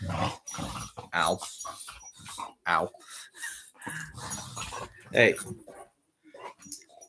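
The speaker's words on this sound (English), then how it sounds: "You'll be hearing some dogs in the background too." Two dogs whimper and give short barks indoors, close by, mixed in among a person's brief exclamations.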